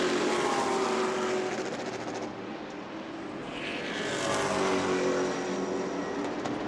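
Race cars lap at speed during Sportsman Group qualifying at New Smyrna, a steady loud engine roar that swells and fades as cars pass, with no talk over it.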